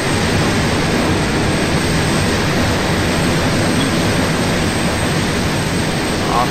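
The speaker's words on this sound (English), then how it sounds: "Oh, my engine's totally going down." A failing aircraft engine in the Arma 2 video game produces a loud, continuous roaring drone that holds steady with no break.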